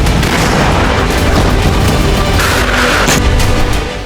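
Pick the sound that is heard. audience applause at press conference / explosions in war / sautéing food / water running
explosions in war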